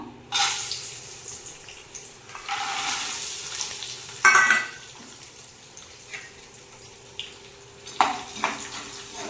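Lentils frying in hot oil in a pan, with a soft steady sizzle and intermittent scraping stir strokes and clinks, fairly quiet and close.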